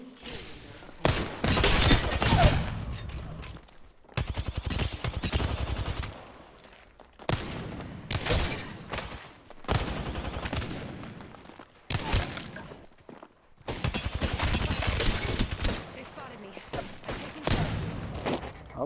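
Gunshots in the Apex Legends video game, rapid machine-gun bursts in several loud clusters separated by short pauses, with a player talking over the fire.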